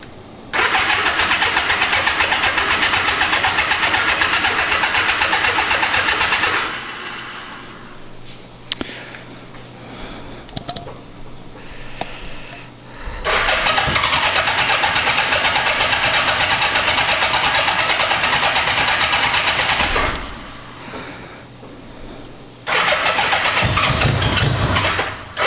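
A Honda Goldwing GL1200 motorcycle engine on choke after carburettor cleaning, cranking and catching into a loud, steady close idle, cutting out and restarting twice with brief quieter gaps between runs.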